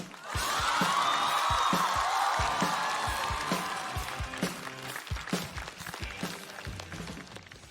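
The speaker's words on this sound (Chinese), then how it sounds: "我们掌声欢迎小海。" Enthusiastic applause from a stand-up comedy audience welcoming a comedian fills the start, then thins into scattered claps and rhythmic thumps as it fades.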